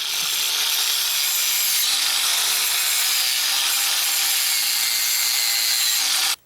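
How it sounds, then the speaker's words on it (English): A wire wheel scrubs metal clean for welding during a repair of the rear grab bar on a 1986 Honda, a loud, steady abrasive whine with a low motor hum running unbroken for about six seconds before stopping abruptly. "I'm just wire wheeling this and cleaning it up for welding purposes"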